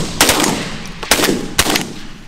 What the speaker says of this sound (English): Shoot him there, shoot him.